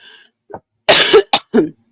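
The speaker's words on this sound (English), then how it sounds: "I didn't mean to cough" A few close, sharp coughs in quick succession, the first burst loudest, with short pauses between them and no talking.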